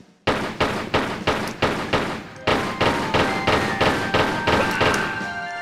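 Pistol shots ring out at guards in Tomb Raider 3, a rapid series of about a dozen evenly spaced sharp bangs, each with a short decay, followed by a rising tonal ring under the last shots.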